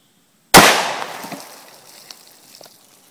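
A Prvi Partizan .30 Carbine 110-grain jacketed soft point round fired from an AMT AutoMag III handgun into water jugs about ten feet away gives one sharp, loud crack, followed by a reverberating decay and faint splashing rattles.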